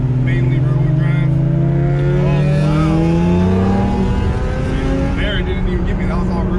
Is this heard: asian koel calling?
no